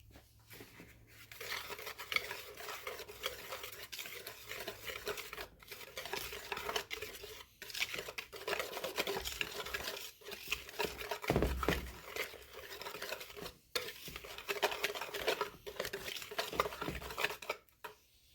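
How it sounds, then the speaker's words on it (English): Ingredients for a seasoning or breading mix being whisked in a bowl, with repeated close scraping and clinking strokes in uneven bursts, separated by brief pauses, fairly quiet and with no talking. "I'm going to whisk these ingredients together."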